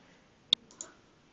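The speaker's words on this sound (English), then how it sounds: "So I click once, click twice" Two crisp computer mouse clicks close to the microphone, a sharp one followed about a quarter second later by a softer one, against near silence.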